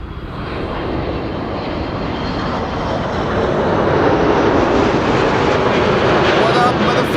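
A jet airliner roars past on arrival to runway 06 at Amsterdam Schiphol Airport, a loud, broad engine rush that builds steadily throughout.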